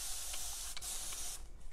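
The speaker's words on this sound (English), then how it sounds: "I have my spray misting bottle filled with water" A handheld spray misting bottle filled with water gives several quick, soft spritzes in a row, close and fairly quiet, with no talking.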